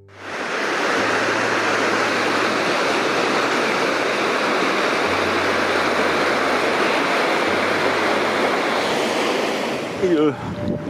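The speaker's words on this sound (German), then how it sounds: "jetzt fahre ich nochmal die Sohlenrampe runter" Loud, steady rushing of river water with broadband wind buffeting as a boat runs down a block ramp on the way to Bamberg, continuous and close, ending in a few knocks.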